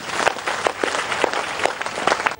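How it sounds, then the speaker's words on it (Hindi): A crowd at a Bharat Swabhiman Yatra rally applauds, with distinct, rapid handclaps in a continuous round that ends abruptly. "एक बार तालियां बजाओ भाई"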